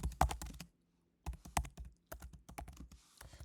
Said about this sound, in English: So let's see if we can type this thing.